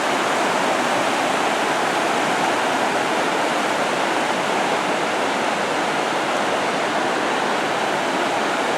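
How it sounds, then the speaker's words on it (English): Fast-flowing Muncho River rushing by at dusk, a loud, steady broadband roar of churning water filling the whole clip without pause. "I think this is the Muncho River"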